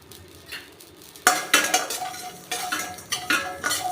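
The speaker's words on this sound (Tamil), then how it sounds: "இப்போ கடுகு போட்டுக்கிறேன், கொஞ்சம் போதும்." Mustard seeds tipped into an already hot kadai while making a medicinal angaya podi: a quiet lead-in, then a sudden rattling burst followed by several close, scattered crackling sizzles and metal clinks.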